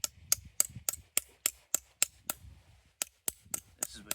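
The rounded side of a ball peen hammer taps texture into a tin petal, a quick series of sharp metallic strikes at an uneven rhythm, close and crisp, with short pauses between bursts and no talking.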